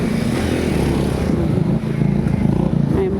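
A motorcycle passes by on an overcast street where three dogs are about, its engine a steady mid-level drone that holds through the clip with other vehicle noise and a brief dip near the middle.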